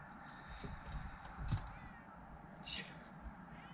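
A couple of soft meows rise faintly over a low, murmuring background, drawn out and whiny, with quiet gaps between them.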